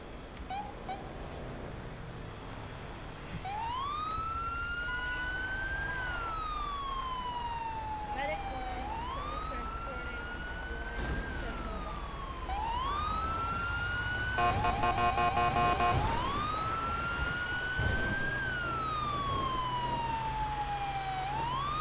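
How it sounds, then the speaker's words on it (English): A fire engine siren in GTA V wails in repeated rising-and-falling sweeps, about every four seconds, loud and close over a low background hum. "I might try to work on a realistic fire siren"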